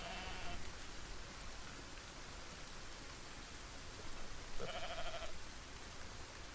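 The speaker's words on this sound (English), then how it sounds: "Yes, I know it's raining." Steady rain hisses throughout a Solar Punk video game scene, a dense broadband wash, while a sheep bleats briefly at the start and again louder near the end.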